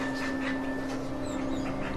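A small, underweight pit bull pants close by, quick rhythmic breaths repeating steadily over a constant electrical hum.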